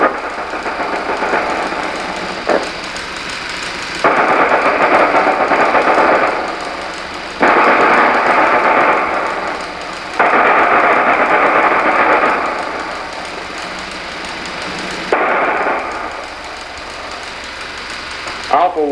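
Enemy small arms fire in a 1965 military training film about a rifle platoon's night attack comes in repeated loud bursts a few seconds apart, rising and falling over a steady background.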